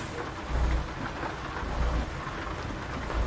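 Steady rain falls in American Truck Simulator while distant thunder rumbles in low rolls about three times, loud and continuous with no talking.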